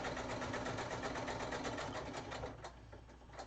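A sewing machine runs steadily, joining two pinned diagonal fabric pieces for a quilt; the close, continuous motor whir holds for about two and a half seconds, then slows and fades.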